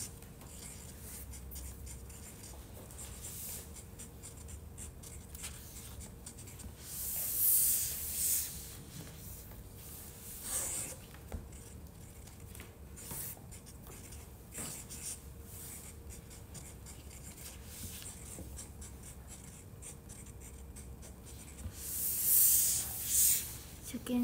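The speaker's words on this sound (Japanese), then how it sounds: "サインを書いております。" Pen signing autographs in special-edition covers of a photo book, making a steady run of scratchy, rubbing strokes up close with brief louder swishes, under a person talking.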